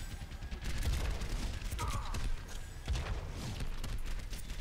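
A rocket explosion in a multiplayer shooter game fills the mix with dense, continuous rumbling blasts and crackling gunfire, loud and sustained without a clear single hit.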